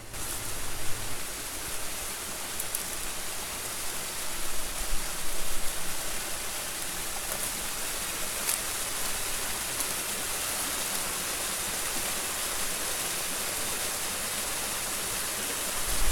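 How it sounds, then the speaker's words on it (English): Hidden waterfall at Lunan Bay pouring steadily, a dense broadband rush of falling water that stays loud and constant throughout, heard alone without voices. "So, made it to the hidden waterfall at Lunan Bay."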